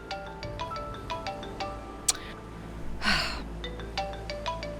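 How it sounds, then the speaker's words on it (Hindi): A phone ringtone plays a repeating electronic melody for an incoming call, steady and moderately close, broken by a brief click and a short breathy gasp partway through. "कंपनी से फोन आ रहा है।"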